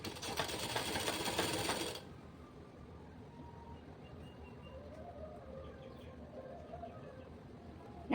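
A sewing machine stitches along a saree edge, a fast steady whir for about two seconds, then stops, leaving quiet room tone with faint chirps.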